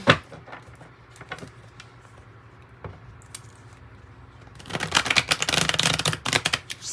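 Soft crisp tarot card riffles and taps at first, then a louder burst of rapid flicking and shuffling near the end.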